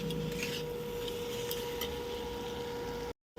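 Chana dal being stirred and roasted in a kadhai, a steady close scraping and rustling of the spoon through dry lentils, continuous and fairly quiet, with a steady hum beneath and a short dropout near the end.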